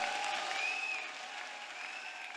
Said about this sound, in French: On n'essaie pas d'acclamer, on acclame.